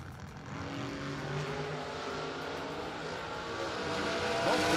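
Drag racing cars launching side by side at a Christmas bracket race, a rising, growling engine roar that holds steady and builds louder toward the end, with no voices.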